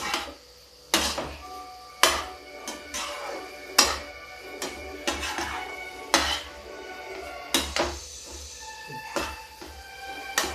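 A spoon tosses half-cooked potatoes with masala in a metal pot for chana nimona, giving repeated sharp clanks and scrapes against the pot about once a second, close and with no talking.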